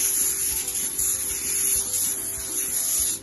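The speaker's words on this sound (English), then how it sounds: "cover your pan with foil and then lightly grease it with non-stick spray" Non-stick spray hisses onto a foil-covered pan in one close, continuous burst lasting about three seconds, with no one talking.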